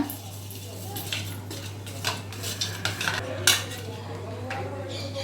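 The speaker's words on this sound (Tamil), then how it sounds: "கருவேப்பிலை, சில்லி சாஸ், மிக்ஸ் பண்ணிக்கோங்க." Cauliflower florets tossed with curry leaves and chilli sauce in a bowl for gobi 65, with repeated clinks and scraping of a spoon against the dish over a steady low hum, close and moderately loud.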